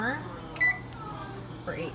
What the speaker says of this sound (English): And I set my timer